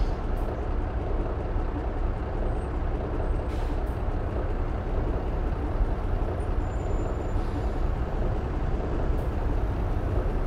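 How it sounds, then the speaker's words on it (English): Kenworth K200 truck in American Truck Simulator, its jake brake engaged as a steady, loud low engine rumble with a rough, throbbing texture running throughout. "A little jake brake's just weird."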